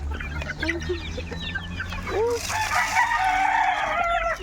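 A flock of farm chickens and many chicks clucking and peeping close by, with a rooster crowing partway through, over steady low background noise.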